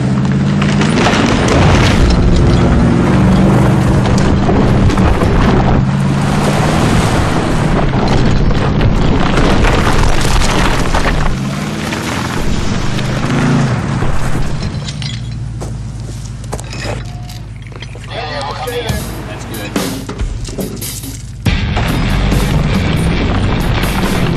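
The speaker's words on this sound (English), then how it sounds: "the Ecoboost engine takes off like a shot with its massive low-end torque" A 2013 Ford F-150 with the EcoBoost engine accelerates hard while dragging over three tons, a loud, broad roar full of booming and clattering bursts that surges and eases across the run, with no talking.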